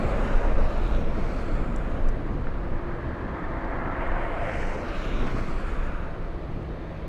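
Big jets including a Korean Air 747 and an A380 at LAX airport produce a broad, steady engine roar with wind buffeting the microphone, continuous and fairly loud.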